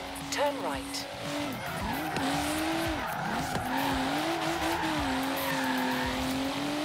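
A BMW M4 Liberty Walk drifts sideways in Forza Horizon 3, its tires squealing in long wavering skids over a humming engine while someone talks throughout.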